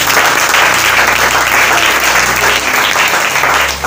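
A church congregation applauds loudly and continuously, a thick wall of clapping from a crowd close by with no break throughout.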